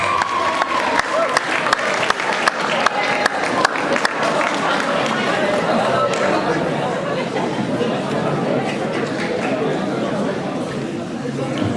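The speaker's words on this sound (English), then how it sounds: "Turn round and give them a massive round of applause." A school GCSE presentation evening audience stands and gives staff a big round of applause, dense sustained clapping with sharp hand claps up front and crowd chatter mixing in throughout.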